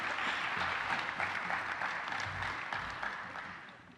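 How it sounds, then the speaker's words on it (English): Audience applause at a Rogers Scholars graduation ceremony, a steady, even wash of many hands clapping for several seconds, fairly distant and gradually tapering off. "let's give them a round of applause"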